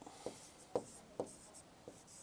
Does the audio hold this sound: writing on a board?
yes